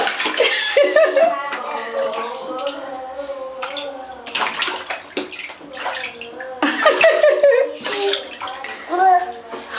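Water splashes and sloshes in a tub as a baby is bathed, with intermittent bursts of splashing mixed with a child's babbling and laughter and an adult voice talking nearby.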